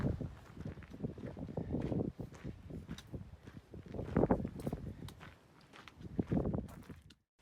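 Gusty wind buffets the microphone on a cliffside hiking trail in Chiricahua National Monument, Arizona, with low rumbling surges rising and falling in waves, mixed with footsteps.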